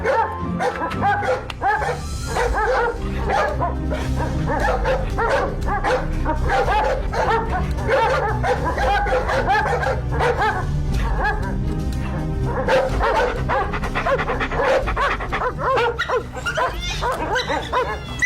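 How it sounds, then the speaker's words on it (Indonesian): Dogs bark and yip repeatedly, loud and close, with whimpering in between and a busy, continuous backdrop throughout. "Jangan gigit, guguk, jangan gigit."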